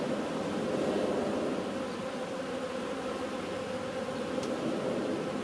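Bees hum inside a beehive, hive number 5, in a dense steady buzzing drone that stays even and close throughout, with no voices.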